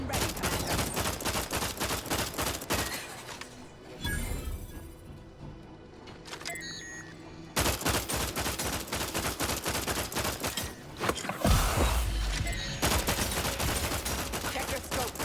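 Stun weapon fire in the video game The Outer Worlds 2: loud, rapid bursts of shots crackle almost continuously, ease off briefly in the middle, then resume at full intensity.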